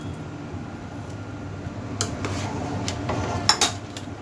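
Rice for Hyderabadi mutton dum biryani is spooned into the pot with a few light scraping clinks of a metal spoon against the vessel over a low fan-like room hum.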